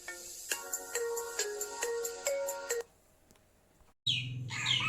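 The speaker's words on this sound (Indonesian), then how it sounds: "Wah, ada telepon." A phone's melodic ringtone plays a quick run of repeated bright notes for nearly three seconds, then cuts off. A short hush follows before high chirping tones start.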